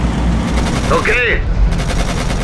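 Gunfire in the Codename: Panzers video game: steady, loud machine-gun rattle runs continuously with a short whooshing sweep in the middle and faint voices in the mix.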